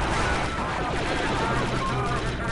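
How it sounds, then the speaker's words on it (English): Assault rifle gunfire from the Star Wars Republic Commando game, a dense, steady stream of rapid shots running without pause, with a voice talking over it. "Recoil on this assault rifle here is very manageable, and I do appreciate that quite a bit."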